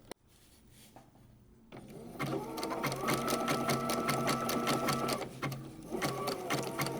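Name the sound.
sewing machine stitching quilt fabric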